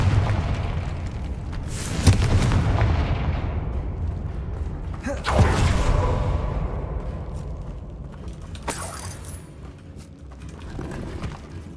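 Confringo fire spell explosions in the Hogwarts Legacy video game: three booming blasts a few seconds apart, each with a crackling roar that trails off, over continuous low game rumble and voices.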